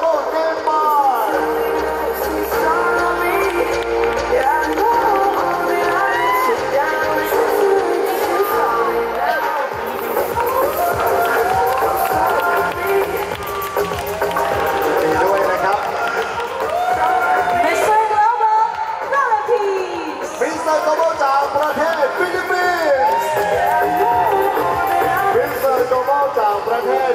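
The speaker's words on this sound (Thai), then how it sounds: "คืนนี้ขอเสียงปรบมือกับมิสเตอร์โกลบอลเนปาล" A pageant crowd in Chiang Mai cheers and claps for Mister Global Nepal at the 2016 world final, with a loud mix of whoops and babble under an announcer's voice and music.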